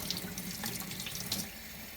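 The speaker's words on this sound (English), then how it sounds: "We wash the aubergine so that all the back parts are off it." Tap water running steadily into a sink while an aubergine is washed under it, a close continuous splashing hiss with small bright splashes and no talk.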